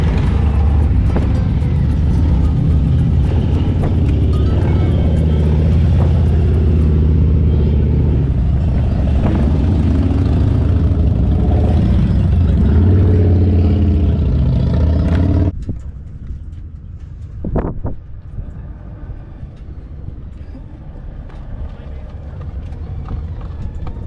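A group of motorcycles riding past on a river road popular with motorcyclists gives a loud, close engine rumble that swells and then cuts off sharply to near quiet, with only faint scattered sounds afterwards.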